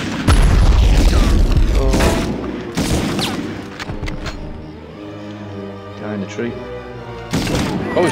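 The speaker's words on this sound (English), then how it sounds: "Oh, he's throwing a grenade at me." A grenade blast from the 1999 PS1 game Medal of Honor opens with a loud boom and crackling burst, followed by scattered gunfire and shorter booms, while someone talks throughout.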